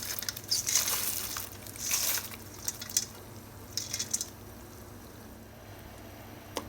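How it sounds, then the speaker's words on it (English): Dried sorrel is poured into a pot of boiled water in a home kitchen, giving a few bursts of crinkly, rustling pouring and splashing, close and fairly quiet, followed by a near-silent stretch. "I'm going to pour the sorrel in my boiled water"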